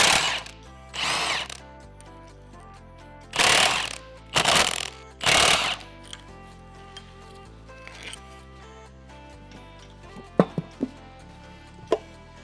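Milwaukee impact wrench removing bolts from a 30-year-old engine during a teardown: several loud, separate bursts of hammering rattle, each about a second long, with quieter tool clicks and clanks in between.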